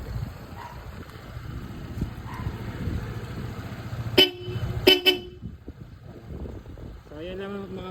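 Bosch Europa dual horn fitted to a Honda PCX160 sounds in a few sharp, loud honks from some distance, breaking over street noise and murmured talk, followed by a voice afterward.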